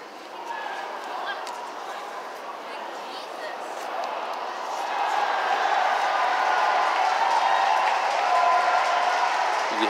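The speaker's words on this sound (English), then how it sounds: "you hear the crowd cheering." Outside Fenway Park, a distant crowd cheers in a steady broad roar that grows louder midway and holds, heard from the street amid ambient city noise.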